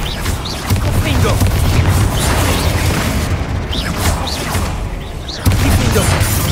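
Confringo blasting spells go off in the video game Hogwarts Legacy, loud booms and crackling bursts in rapid succession with a sharp blast near the end, mixed with spell-casting voice shouts.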